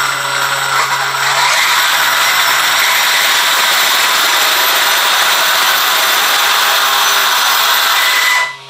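An Arrma Outcast RC car motor revving at roughly stock rotation speed, a loud, steady, whining buzz with gear noise, held close and continuous for several seconds before cutting off abruptly.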